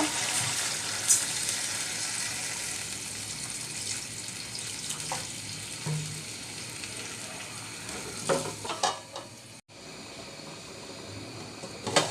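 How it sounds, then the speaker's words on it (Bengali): Katla fish pieces being sautéed with spices in a pan: a continuous loud hiss of frying throughout, with a few utensil knocks and clatters toward the end, no talking. "এটা আমি মাছ দিয়ে দুই মিনিট কষিয়ে নিয়েছি"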